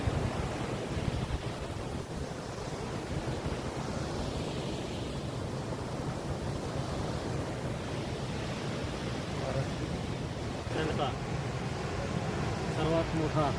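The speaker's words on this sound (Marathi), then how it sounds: "4 दरवाजामधून पाणी सोडण्यात आलेलं आहे" Water rushes out through four open dam gates at the Sina Kolegaon project outlet in a broad, constant roar from overflowing water, with no break across the whole stretch.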